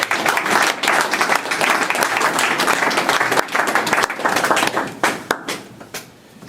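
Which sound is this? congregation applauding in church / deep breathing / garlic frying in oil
congregation applauding in church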